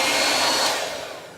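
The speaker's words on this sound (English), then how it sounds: "a hairdryer" A handheld hair dryer blows a steady, loud, close whoosh of air over a drying paper mache lantern cover, then eases off slightly toward the end.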